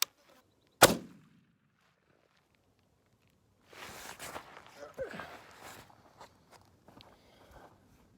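A single sharp muzzleloader rifle shot from a CVA Paramount at an outdoor range, loud and close, then near silence followed by rustling and handling noises.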